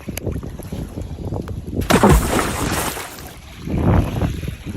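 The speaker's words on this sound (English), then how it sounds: "it's just windy like always" Gusty wind buffets the microphone at the Texas City Dike on the waterfront, a steady rumbling roar with stronger gusts swelling midway and again near the end, with no voices.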